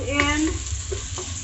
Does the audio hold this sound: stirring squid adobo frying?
yes